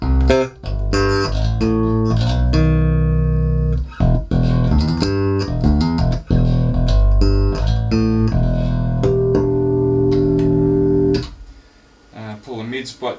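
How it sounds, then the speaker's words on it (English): Spector active bass played through a WCA112LW amp with the treble maxed, a run of bright, punchy notes and slides with clanky top end, loud and close, ending in a fading ring. "I'll max out the treble so you can hear the top end of the cab."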